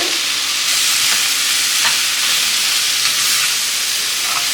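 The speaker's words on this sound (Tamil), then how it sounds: "இப்போ இதில் பீன்ஸ் ஆட் பண்ணிடலாம்" Green beans and prawns sizzle loudly in a pan of spicy tomato gravy, a close, dense, continuous frying hiss with light stirring scrapes throughout.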